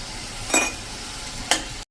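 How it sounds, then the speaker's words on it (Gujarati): Bottle gourd dhokli curry cooks in a pan over a slow flame, giving a steady close sizzle with two brief louder stirring scrapes. "અને એને આપણે સ્લો ફ્લેમ ઉપર આ રીતે 1 થી 2 મિનિટ કૂક કરી લેશું"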